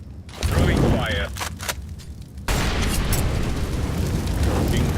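A Molotov incendiary lands in Counter-Strike, a sudden loud whoosh of flame at about two and a half seconds giving way to a steady roaring burn, with scattered game noises and a brief voice beforehand.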